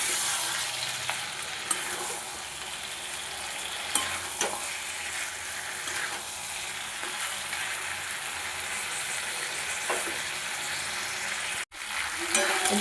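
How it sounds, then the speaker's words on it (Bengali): Mutton and potatoes frying and being stirred for kosha in a pan, a steady close sizzle with scraping stir strokes throughout, no talk. "মাংসর আলুগুলো দিয়ে দেবো দিয়ে মাংসটা খুব ভালোভাবে কষাবো"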